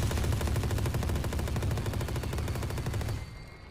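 Rapid automatic gunfire from Spectre SMGs and an Ares in a Valorant esports match: dense, continuous bursts, loud and close, that cut off abruptly near the end and leave a faint ringing tail.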